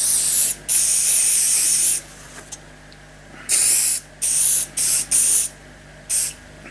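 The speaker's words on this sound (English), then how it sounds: "I'm going to give this a quick coating of hairspray over the woodwork so I can do the peeling paint" Cheap extra strong hairspray is sprayed over woodwork in short bursts, a series of close hissing sprays of varying length separated by brief pauses.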